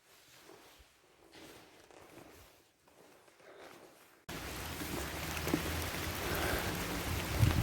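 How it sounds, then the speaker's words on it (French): Heavy rain mixed with hail suddenly pounds an umbrella on a rainy pilgrimage walk near Espalion on the GR 65 trail. It follows a few seconds of faint patter, then becomes a loud, dense, continuous drumming close overhead. "on n'en peut plus de la pluie, on vient carrément de se prendre de la grêle"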